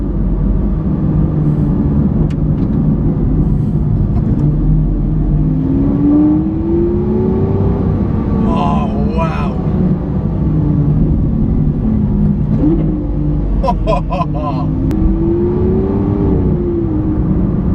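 A Lamborghini supercar engine revs loudly and close while accelerating, the pitch climbing and falling in repeated surges, and a voice briefly exclaims over the roar.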